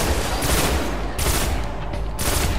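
Gunfire rattles in the video game Destiny: loud, close bursts of rapid automatic shots come in repeated volleys over a few seconds.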